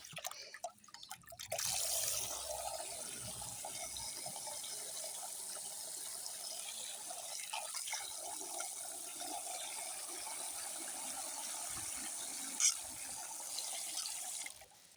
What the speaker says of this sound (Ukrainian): Так, включаємо воду.